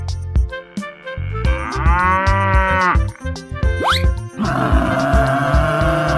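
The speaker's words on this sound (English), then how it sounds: "Buffalo." An animated 3D buffalo gives a loud, drawn-out moo in a cartoon game scene, set among busy synthetic effects, bumps and a rising whistle.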